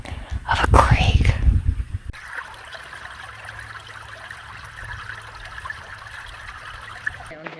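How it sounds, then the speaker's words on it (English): Babbling creek water in Death Valley runs as a faint, steady trickling hiss after a few seconds of whispering nearby. "He's recording the babbling of a creek."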